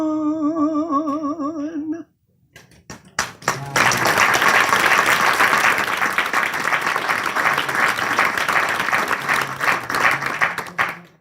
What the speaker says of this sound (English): Let's give her a round of applause, but you can do better than that.